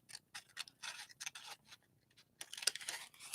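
Small scissors snip through paper postage stamps in a run of crisp, close cuts, quick bursts separated by brief pauses, growing busier toward the end.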